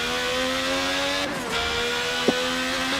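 High-revving 1988 McLaren MP4-4 Formula 1 engine from Ayrton Senna's car in Forza 7, a steady loud whine with a brief dip around a gear change and a short sharp blip near the end.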